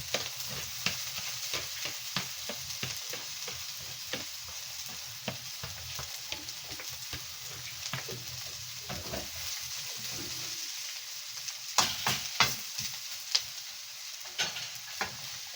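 Bamboo shoots (labong) fry with onion in a pan, giving a continuous loud sizzle broken by frequent scraping stirs, with a few sharper clatters near the end.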